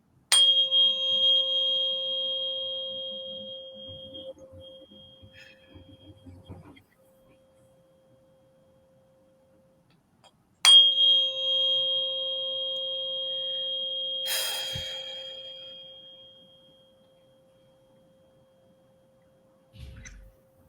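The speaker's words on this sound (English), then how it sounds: "We'll try a higher frequency. So this one is 528 hertz." A 528 hertz tuning fork struck twice, each pure ringing tone sustained and slowly fading, with faint handling noises between strikes.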